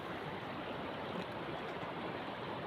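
River water at Bhavanisagar flowing past and carrying away floating water hyacinth, a soft, constant rushing wash of moving water with no talking.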